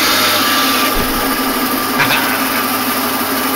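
The motor of a 2x72 knife belt grinder runs in a steady, close, continuous hum with a thin high whine, and a brief low thump near the start.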